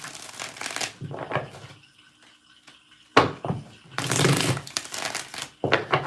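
Tarot cards being shuffled by hand at close range: several brisk bursts of riffling and rustling separated by short pauses, the final burst cut off at the end, with no talk.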